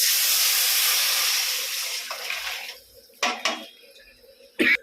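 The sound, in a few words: tempering poured into rasam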